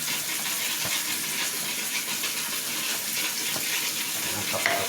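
Water from a kitchen sink tap runs steadily into a pot, a continuous hissing gush lasting several seconds, close and fairly loud, with a faint clink near the end.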